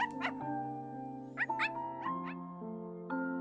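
An ember pup creature in Aniimo gives a run of high, yipping barks and whimpers over a tonal game music bed, several short calls in quick succession.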